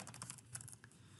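Quick bursts of keystrokes on a computer keyboard, several light, close clicks in rapid succession at a quiet level, with no voices.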